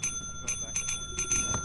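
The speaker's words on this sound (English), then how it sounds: "It started rapid ringing." Bell in the video game Lethal Company ringing in quick repeated bursts, several short bright strikes spaced across the moment over a low background rumble.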